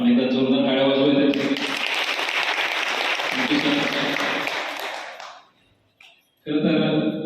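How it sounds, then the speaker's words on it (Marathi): Audience applause at a students' and parents' awareness gathering held by the sub-divisional police office in Koregaon, a dense burst of clapping lasting about four seconds between stretches of a man's speech. "तर आपण एकदा जोरदार टाळ्या वाजवूया."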